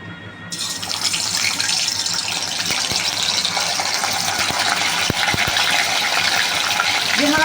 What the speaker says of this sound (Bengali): তেলটা আমার গরম হয়ে গেছে। চিকেনগুলো আমি এক এক করে ভেজে নেব।